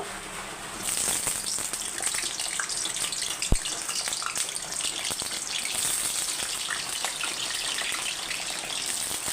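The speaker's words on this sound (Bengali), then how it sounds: "এখানে আমার তেলটা গরম হয়ে গেছে এখন আমি আলু আর শালগমটা ভেজে নেব" Potatoes and turnip fry in hot oil with a loud, dense, continuous sizzle and crackle, broken by a single sharp knock partway through.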